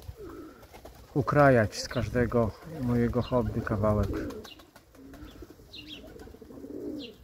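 Pigeons coo softly in a loft holding over 400 birds, under someone talking in Polish. A few faint chirps come through once the voice pauses.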